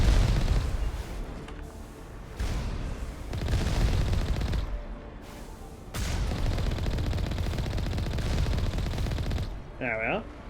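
Gunfire at turrets in the Mass Effect video game, loud rapid bursts of shots and booming impacts in dense clusters separated by brief pauses, with a synthetic tone near the end.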